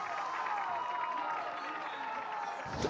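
A large esports arena crowd at a Valorant VCT Americas Kickoff match between Sentinels and FURIA roars and murmurs in a steady distant wash of cheering, with a caster talking over it.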